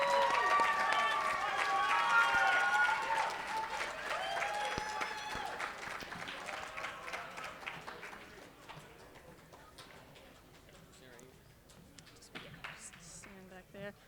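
An audience at a Poetry Out Loud competition applauds a finalist as the winner is announced. A loud, dense wave of clapping mixed with voices gradually thins into scattered, fading claps.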